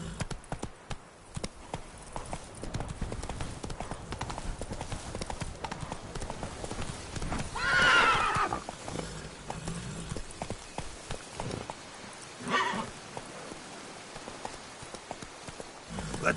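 A horse in The Witcher 3 video game gallops with a rapid, continuous clip-clop of hooves throughout, broken by two brief whinny-like cries.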